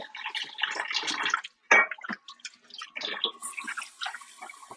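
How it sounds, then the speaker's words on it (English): Hands are rinsed under a running kitchen tap to wash off raw egg, with irregular splashing and trickling water, moderately close, broken by a few brief clunks and pauses. "I'm gonna go wash wash my egg remnants off my hand."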